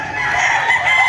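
Chickens at a farm crow and cluck in a brief, fairly loud and close call with no talking.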